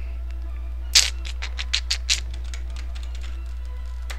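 Computer keyboard typing during a Mount & Blade: Warband game session, a quick run of sharp, close clicks after one louder strike, over a low steady hum.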